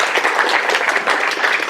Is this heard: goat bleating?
no